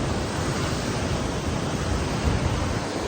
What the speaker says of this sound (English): Waves are still crazy.